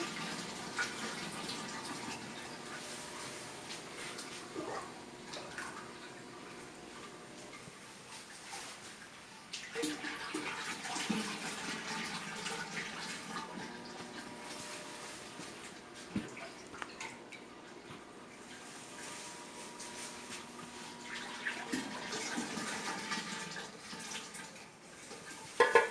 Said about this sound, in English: Just keep adding syrup. So this is just the sugar and the water mixed in.